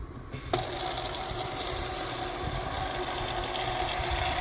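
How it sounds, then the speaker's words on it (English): Steady rushing water pours into a container nearby, a continuous hiss that starts abruptly and runs on evenly. "I'll give them another nice thing of water first. Fill up their water."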